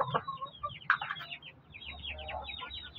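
Native backyard chickens cluck and chatter up close in soft, irregular calls, with low background rumble.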